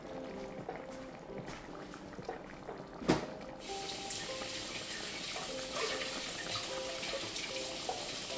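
Kitchen tap running at a sink while something is rinsed under it, a steady close hiss and splash of water that grows fuller partway through after a brief clunk.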